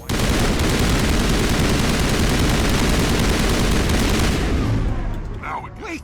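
Turret gunfire in Mass Effect, a dense, continuous roar of rapid shots that stays loud for several seconds before dropping off abruptly to quieter noise.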